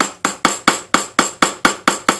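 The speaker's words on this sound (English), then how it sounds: "just hold the nail in place and tap it lightly" Hammer tapping a masonry nail held against a glazed wall tile, nine light, sharp, evenly spaced clicks close up, alone.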